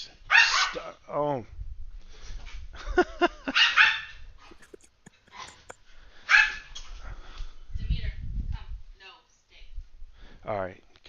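A pet dog barks and whimpers indoors in several sharp yips and barks, close and loud, mixed with a man's speech.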